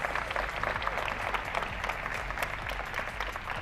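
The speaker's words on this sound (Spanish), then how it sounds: "fuerte el aplauso" An audience at a talk on artificial intelligence applauds warmly, a dense, steady wash of clapping that holds at an even level throughout without a clear fade.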